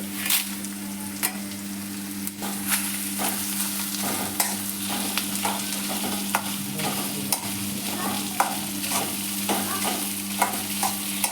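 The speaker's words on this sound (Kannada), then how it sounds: "ಇಷ್ಟನ್ನು ಎಣ್ಣೆಲಿ ಚೆನ್ನಾಗಿ ಫ್ರೈ ಮಾಡ್ಕೋಬೇಕು" Mustard seeds and red chilies fry in hot oil with a continuous close sizzle, scattered with crisp pops and the scrape of stirring throughout, no voices over it.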